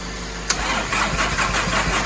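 A VW T4 Transporter TDI, running on jump leads from a Mercedes van, has its starter engaged with a sharp click, then the engine cranks over in a steady, loud, close churn that does not catch.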